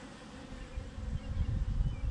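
Honey bees hum low and steady inside an open hive, with young nurse bees close by, a soft continuous buzz that swells slightly toward the end.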